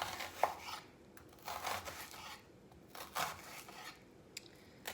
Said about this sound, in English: So I'll go in here, down to the root. Don't cut all the way to the root, but down to it.